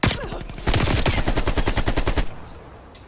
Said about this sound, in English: Why was I getting shot behind me?